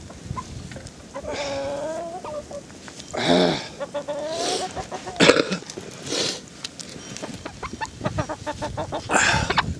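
Chickens cluck and squawk in bursts, close by, as they are herded to shelter during a storm, with a voice coaxing at times between the calls.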